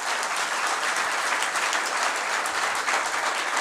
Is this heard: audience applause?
yes